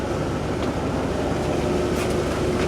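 A 1998 Bentley Brooklands R engine idles steadily while warming up with a vacuum line disconnected, a continuous low rumble close by with no voices.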